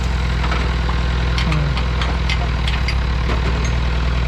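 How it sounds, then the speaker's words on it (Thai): A Farmboy-powered old four-cylinder diesel engine drives a hydraulic pump at a groundwater well-drilling site, running as a steady, loud, close drone with faint clanks and knocks over it and no speech. "เครื่องดีเซลสี่สูบ ในรูของรถอะไรน่าจะรุ่นเก่า เป็นต้นกำลังไว้ขับปั๊มไฮดรอลิกครับ"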